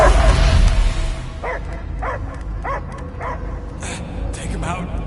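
A dog barks repeatedly in short, evenly spaced yips over a rumbling background, loud and close, with several barks following one another in a steady rhythm.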